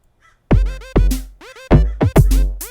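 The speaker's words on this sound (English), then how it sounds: "And there goes a crow." A crow caws about five times in quick succession, each call harsh, loud and close, with short gaps between them and no talking.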